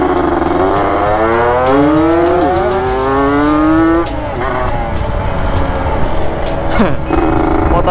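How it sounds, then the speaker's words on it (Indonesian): A motorcycle engine runs loudly nearby with rising and falling revving as the motorcycle reverses, amid steady traffic noise and a few clicks. "Motor gua mundur coy, berebet anjir."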